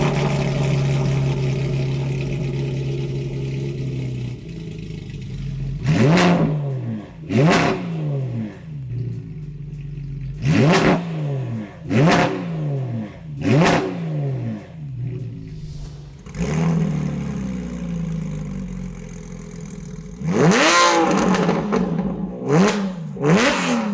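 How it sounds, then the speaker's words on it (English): A Porsche GT3 with a 600 hp 4.5-liter flat-six is revved repeatedly while stationary, sharp rising bursts of engine noise separated by pauses, ending in a quicker cluster of blips, loud and close with no talking. "It's funny because when you rev it, definitely feels higher displacement than that."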